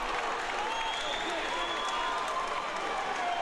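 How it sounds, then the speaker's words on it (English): Basketball championship crowd, Crosby Bulldogs and Sacred Heart fans, roaring and applauding in a steady, loud wall of clapping and cheering with no break across the whole stretch. "this crowd is going nuts"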